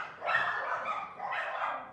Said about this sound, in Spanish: perdón por las perritas, creo que hay algo que las está ahí distrayendo